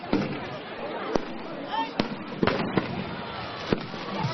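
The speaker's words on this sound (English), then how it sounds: "judging by the array of fireworks being set off on the banks of the Heilongjiang" Fireworks go off along the banks of the Heilongjiang River during a festive celebration, sharp bangs and crackles popping irregularly, some near and loud, others distant, over a continuous murmur of crowd noise and voices.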